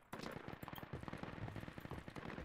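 Random gunfire rattles in the military shooter game Project Reality, a dense run of rapid, overlapping shots and bursts, fairly faint and continuous with no voices.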